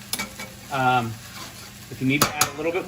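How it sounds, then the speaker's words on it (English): Cooked pasta noodles sizzle and get stirred in a hot pan with saved pasta water, crackling bursts coming and going with clinks of utensils against the pan, all close and fairly loud. "I like to cook hot, so I'm letting it sizzle, and I'm letting it coat the noodles really well"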